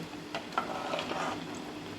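Potato vada batter, spooned gently into hot oil, sizzles with a steady soft crackle and faint bubbling throughout, close but low in level, with no talk.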